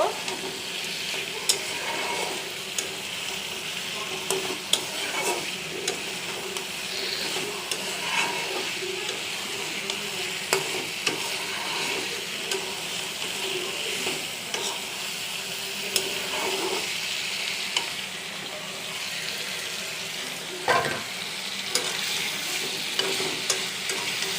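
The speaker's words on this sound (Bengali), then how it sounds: "দিয়ে বেগুনগুলোকে ভালো করে কষিয়ে নিব" Fried brinjals sizzle continuously in a hot pan while being stirred and sautéed, with scraping knocks of a spatula recurring throughout at close range.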